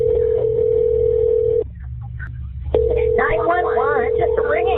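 A telephone ringback tone on a 911 emergency call, a steady loud electronic ring that breaks off briefly and resumes, with a voice speaking over the later part.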